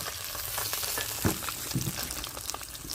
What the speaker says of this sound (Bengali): একে একে আমি সব মাছগুলো ভেজে নিয়েছি আমি তুলে নিচ্ছি মাছগুলো